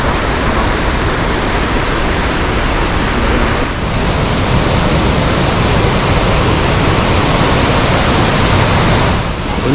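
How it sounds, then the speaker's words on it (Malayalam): Waterfall in a Munnar forest, a steady loud broadband rush of falling water that fills the whole stretch without pause, with no talk over it. "ഇവിടെ അപ്പോൾ നമ്മൾ ആ ഒരു വെള്ളച്ചാട്ടം നമുക്ക് ഇവിടെ നിന്ന് കണ്ടു തുടങ്ങി."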